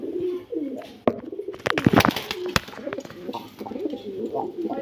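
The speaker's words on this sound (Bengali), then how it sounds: "কি অ্যাক্টিভ দেখেন কবুতর" Laldam pigeons in a loft coo in soft, rolling bursts, close and fairly loud, with wing flutters and a few sharp knocks amid the calls, and a voice faintly in the background.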